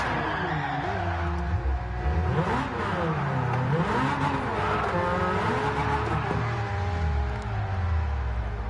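Race car in Gran Turismo played on a G29 wheel, engine revving and pitching up and down through gear changes while drifting, with tire squeal over a steady loud engine drone and no talking.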